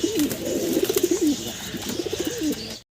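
A pair of red Shirazi pigeons coo in repeated throaty, rolling phrases, close and clear, with two bursts of cooing separated by a short pause and no talking.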